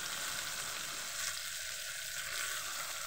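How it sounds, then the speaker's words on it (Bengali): Chopped onion frying in a pan with diced tomato, giving a steady, dense sizzle that holds close and even throughout with no voices over it. "পেঁয়াজটাকে আমি ভালোভাবে ভেজে নেবো।"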